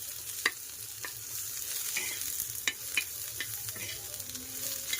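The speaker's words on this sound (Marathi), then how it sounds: "चांगले लाल रंगाचे होईपर्यंत भाजून घेऊया कांदा" Onion with garlic fries in a pan for egg curry, giving a low steady sizzle with scattered clicks and scrapes of stirring.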